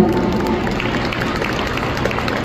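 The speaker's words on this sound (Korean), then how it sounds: "박수 부탁드립니다" An audience in a convention center hall applauds, a dense wash of clapping heard at moderate distance that stays even for a couple of seconds.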